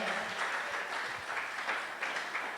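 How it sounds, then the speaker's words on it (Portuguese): Audience applause in a church youth service, a steady wash of clapping at moderate level throughout with no clear voices on top. "Uma salva de palmas para eles."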